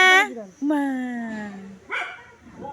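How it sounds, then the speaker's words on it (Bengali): A dog gives a few yelping barks and drawn-out whines in close succession, close by and fairly loud, with a voice nearby. "কুকুর ডাগি"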